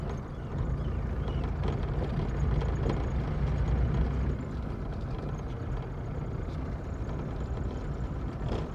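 An Ambassador car rolls over a large speed breaker, a steady close engine rumble with road and body noise that swells briefly near the middle and then settles, no talk heard.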